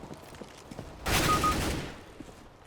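A fully automatic shotgun fires in CS:GO, a short burst of rapid blasts packed into about one second, rising over quiet background clicks and game noise.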